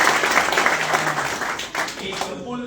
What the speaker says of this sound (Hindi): मेरे दोस्त के लिए, अशरफ भाई के लिए बहुत सारी तालियां